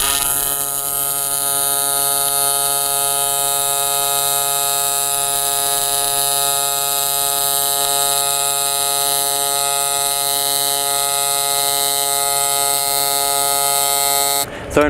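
Miller Dynasty 200 DX TIG welder arc joining thin metal to thicker metal, a steady loud electrical buzz with a constant high-pitched tonal hum, unbroken for nearly fifteen seconds before cutting off.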